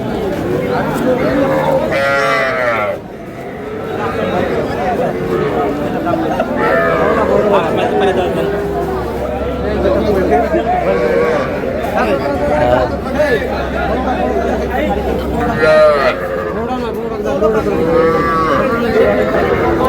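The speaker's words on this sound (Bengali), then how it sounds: "ষাঁড় বাচ্চা" Young bull calves mooing repeatedly at a busy cattle market, several loud nearby calls rising over steady crowd chatter and voices of traders talking throughout.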